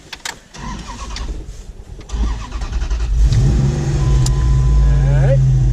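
A truck engine cranks and starts, then settles into a loud, steady rumble that builds as it is brought up off idle ahead of a stationary burnout, heard up close with voices talking over the start.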